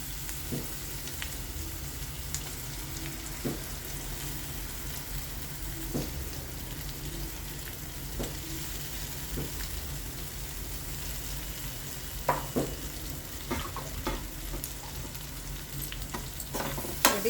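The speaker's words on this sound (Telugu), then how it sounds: "కొంచెం పచ్చివాసన పోయిన వరకు వేపుకుంటే" Masala frying and being stirred in a pan for tindora (ivy gourd) curry, a soft continuous sizzle broken by scattered scraping clicks of the spoon that grow busier toward the end.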